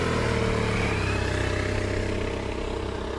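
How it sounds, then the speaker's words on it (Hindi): A motorbike engine runs steadily close by, a continuous rumbling idle that eases slightly toward the end as the bike is brought to a stop at a roadside tea stall. "गौरव ने तुरंत अपनी बाइक चाय की टपरी के सामने रोक दी।"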